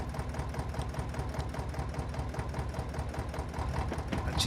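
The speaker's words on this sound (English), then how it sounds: "Look at that engine sound." A tractor engine in Farming Simulator 22, a large articulated machine, runs steadily at a low idle with a rhythmic mechanical chatter, loud and continuous throughout without talk.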